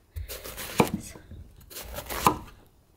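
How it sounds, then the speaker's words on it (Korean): A knife cutting autumn pumpkin into large pieces on a cutting board: two heavy thuds about 1.5 seconds apart, close and fairly quiet. "호박을 좀 크게 썰어서 넣으면 아주 푹 물러지면서 맛있어요"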